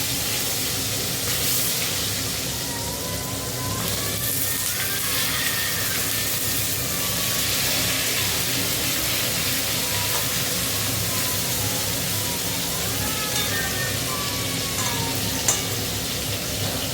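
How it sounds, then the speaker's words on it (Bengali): Pointed gourd frying in hot oil with salt and turmeric, giving a steady, loud, hissing sizzle that holds for the whole stretch with no talking. "হলে পটলটা আগে ভেজে নেবো, একটু নুন আর হলুদ দিয়ে দেবো।"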